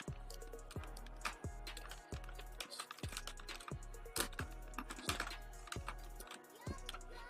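Rapid, fairly regular clicks of a computer keyboard being typed on to enter an HTML5 doctype, close and crisp with short pauses between bursts.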